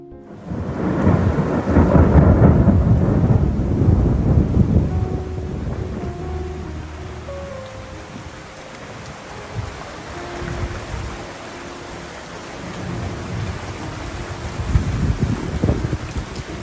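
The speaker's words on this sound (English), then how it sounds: "it rains in the afternoon" An afternoon thunderstorm over forested hills in Uganda: heavy rain pours steadily while deep thunder rumbles loudly early on, then fades to a softer, continuous downpour with occasional wind buffeting, and a fresh rumble swells near the end.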